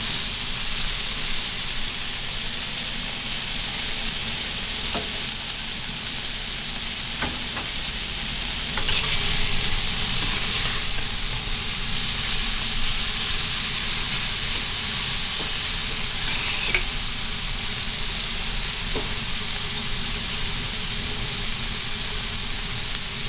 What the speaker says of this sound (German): da kommt viel drauf gebraten